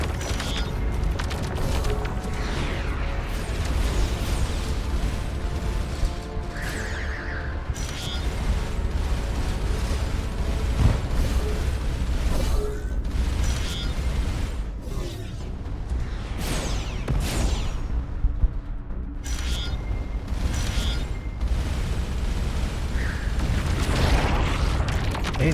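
Missiles burst and boom in the space game Starcom: Unknown Space, a dense, continuous run of explosions and crackling impacts with scattered sharper pops, loud throughout and mixed with game effects.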